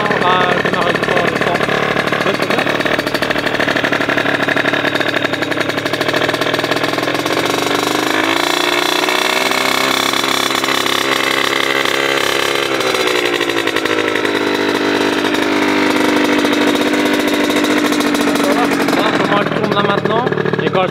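A cold 50cc supermoto motorcycle engine idles steadily nearby, a buzzy, uneven two-stroke-style drone that dips slightly in pitch midway, with people talking over it.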